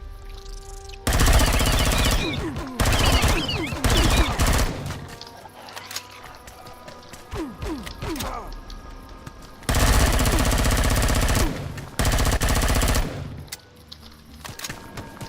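Video game gunfire in a base-building game, loud sustained bursts of automatic fire alternating with quieter stretches of scattered shots, with no speech.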